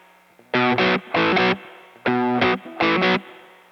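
Distorted electric guitar playing the John Henry riff, four gritty chord bursts in two pairs, loud and close with short gaps between them and no talking.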